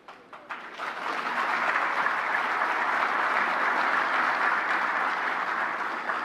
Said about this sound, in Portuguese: Eu gostei das palmas do Paulo Guedes.